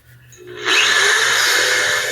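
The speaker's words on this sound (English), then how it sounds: "So just drill a few holes in the bottom." A power drill bores drainage holes into the bottom of a plastic hydrogen peroxide bottle. After a quiet start, a steady, loud whirring grinding begins and holds without a break to the end.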